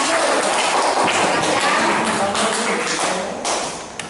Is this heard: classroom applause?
yes